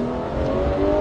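A Porsche 911 GT3 (991) race car accelerating hard on a track, heard from inside as a loud, steady engine drone with rising revs and no voices over it.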